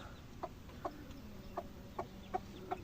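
Buff American Silkie hens give soft, evenly spaced clucks, about seven short calls over a steady low background, fairly close and clear with no voices.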